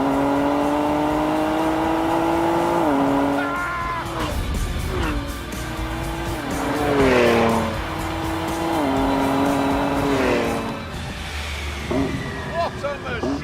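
A Ford GT with a turbocharged V6 runs at full throttle, climbing through several gears in loud, rising pulls with brief drops at each shift and a bit of tyre squeal, while someone talks over it.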